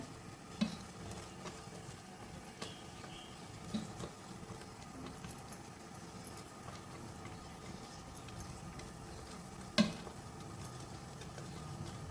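Grated potato is stirred into rice cooking in a pan, heard as a soft, steady sizzle with scraping spoon strokes and occasional clinks, close and without talk.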